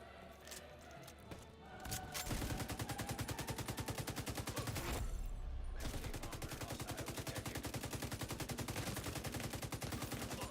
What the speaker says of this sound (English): Don't mind me just casually shooting through a wall.